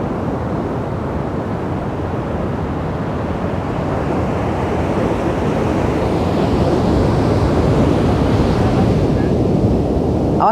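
Sea waves at a rocky Banten shoreline as the tide rises, a steady loud broadband wash of surf with wind buffeting the microphone, continuous throughout and growing slightly stronger toward the end.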